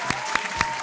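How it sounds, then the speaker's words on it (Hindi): Studio audience clapping for contestants on a Pakistani TV game show, a steady spread of hands with a few sharper claps standing out, moderately loud and without talk. "इनके लिए जोरदार तालियां बजाइए।"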